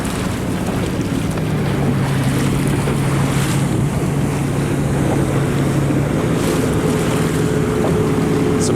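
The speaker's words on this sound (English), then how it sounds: "Some big waves here." Loud, constant rush of wind and water around a racing sailboat, with big waves washing against the hull and a low droning hum underneath.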